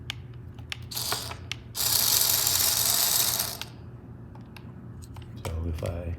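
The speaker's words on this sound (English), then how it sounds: "you can hear the motor coming" A RoboThink robot's motor whirs into a loud, steady buzzing run of about two seconds, standing out over a quieter mechanical clicking and rattling background, with brief ticks before and after.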